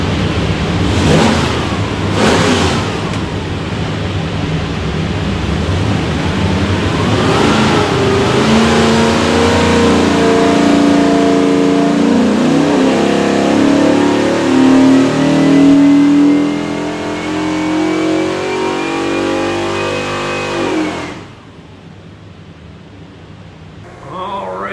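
A 419-horsepower 347 Ford stroker V8 with a front-sump oil pan roars on a dyno, climbing through a long sustained rev sweep under steady load before cutting off abruptly and falling to a low idle.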